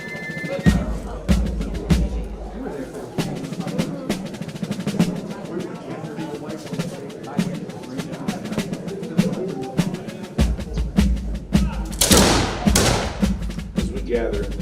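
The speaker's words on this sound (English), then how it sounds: "a mortar round being fired by the 4th South Carolina Regiment Artillery, followed up by a musket salute of the South Carolina Independent Rangers" At a South Carolina commemoration, the 4th South Carolina Regiment Artillery fires a mortar and the Independent Rangers follow with a musket salute. Low, dull thumps sound under ongoing voices, and a crackling volley of shots breaks out near the end.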